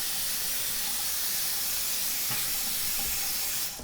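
Running water from a tap rinsing beard trimmer clippings down a sink drain, a steady close hiss of spray throughout, cutting off at the end.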